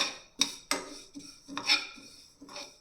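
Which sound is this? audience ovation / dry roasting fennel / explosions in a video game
dry roasting fennel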